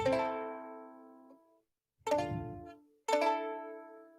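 Ukulele plays bars 7 and 8 in three plucked strums: a long ringing chord that slowly decays, a brief silence, then two more chords ringing close and clear, with no voice.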